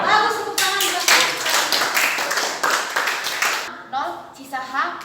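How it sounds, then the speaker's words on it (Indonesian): Hands clap in a quick, steady rhythm in a classroom during a math lesson, loud and close, followed by a voice speaking as the clapping ends. "tepuk tangan buat saya"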